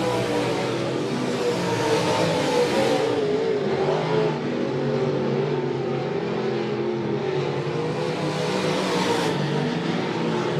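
USRA Modified dirt track race cars running a feature race at Monett Motor Speedway, a continuous roaring engine drone from the pack that swells and eases as cars circle the track at a distance.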